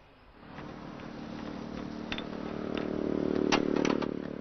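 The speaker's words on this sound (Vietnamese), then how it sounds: "xe của chị em ấy mà, nổ máy to lắm." A motorbike engine that had gone years without an oil change starts and runs with a rough, clattering rattle, growing louder after it catches and staying steady, with a few sharp knocks near the end.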